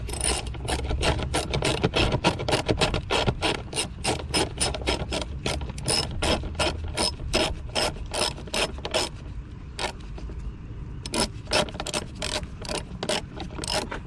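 Rapid ratchet clicking while a clamp on a Toyota Camry engine air filter housing is tightened, close and steady in quick repeated bursts with a short pause near the end.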